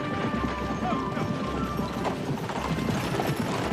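Horses pull a stagecoach into a station, their hooves clip-clopping steadily under a continuous rumble of wheels and harness, with occasional faint voices mixed in.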